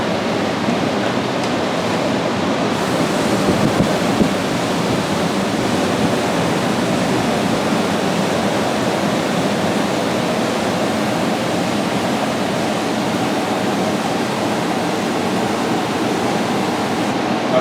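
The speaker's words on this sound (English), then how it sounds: "We pump for water as we water our microgreens." Water pumped and sprayed onto trays of microgreens, a steady, dense hiss of spray that runs unbroken and fairly loud throughout, with no voices.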